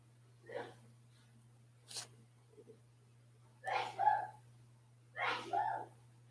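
Two explosive sneezes ring out from across a house, distant but distinct, after a few faint rustles and a low steady hum underneath.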